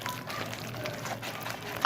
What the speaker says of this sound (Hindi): तीन चम्मच तक पानी हम डाल देते हैं